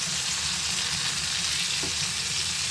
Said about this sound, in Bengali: মাছের মাথা, চাপা চুপা এসব ভাজি করছি